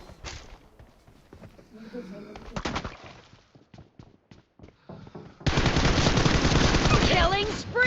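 Gunfire in the mobile battle royale game PUBG Mobile starts as scattered single shots and short bursts, then erupts into sustained, loud automatic fire for the last couple of seconds.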